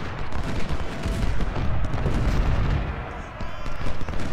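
Volleys of musket and artillery fire from troops in the Ultimate General: Civil War video game, a dense continuous rumble of distant shots and booms, with a voice partly over it.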